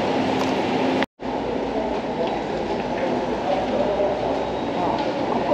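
A Seoul subway station, quiet outside rush hour, gives off a steady, loud rumbling roar of train and platform noise that cuts out for a moment and then resumes, with faint speech murmuring beneath it.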